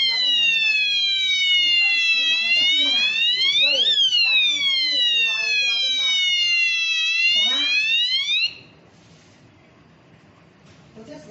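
An addressable fire alarm control panel sounds a loud, continuous sweeping electronic alarm tone that rises and falls for about eight seconds, then cuts off abruptly, leaving low room noise.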